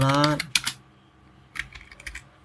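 Typing on a computer keyboard, a burst of close clicking keystrokes, a pause, then more taps, heard after a voice at the start.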